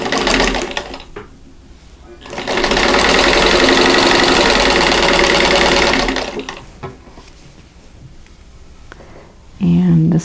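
A sewing machine stitches a fabric square for a Christmas bauble quilt block in one loud, steady whirring run of about three and a half seconds, with quieter handling noises and a voice before and after.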